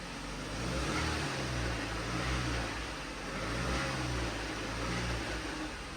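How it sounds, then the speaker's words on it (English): Jeep engine with a T355 manual transmission revving up: a close, low engine drone rising and falling in two broad swells over several seconds, with no speech. "I'm gonna rev it up."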